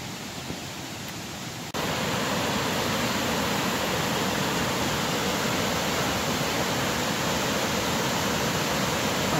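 River water rushing steadily at close range, a dense broadband roar like a stream or small rapids that grows louder after the first two seconds and then holds constant, with no voices.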